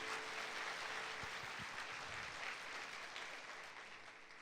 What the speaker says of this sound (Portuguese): Então dê um aplauso bem forte